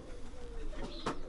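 A racing pigeon at a loft coos in a low, soft warble through the first second, followed by a brief loud rustle or clatter close by.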